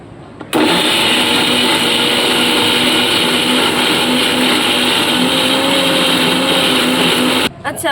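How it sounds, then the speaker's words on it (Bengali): An electric grinder blending chopped onions into paste for a festive mutton curry, a loud steady motor whine that starts abruptly, holds for about seven seconds, then cuts off. "যে পেঁয়াজগুলো বলেছিলাম সেগুলো এবার বেটে নেবো সব"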